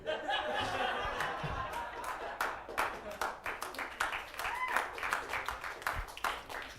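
A stand-up comedy audience breaks into scattered, uneven clapping mixed with chuckles and murmured chatter, the claps fading in and out before dying away.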